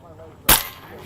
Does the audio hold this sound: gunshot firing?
yes